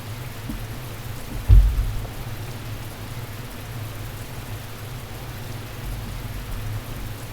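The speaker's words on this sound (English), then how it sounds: "The rain had been falling for 2 days straight" Steady rain falls in a night jungle storm in the visual novel The Fruit of Grisaia, a continuous even hiss with one brief low thump near the start and no voices.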